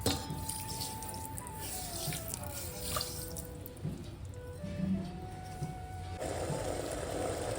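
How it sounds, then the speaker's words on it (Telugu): Water being poured onto sugar in a pan to make syrup for a tomato sweet produces a running, trickling pour with faint dripping and light clatter, ending in a louder splashy burst. "ఇప్పుడు పాకం కోసం అదే గ్లాస్తో 1/2 గ్లాస్ వాటర్ పోసి కరగనివ్వాలి"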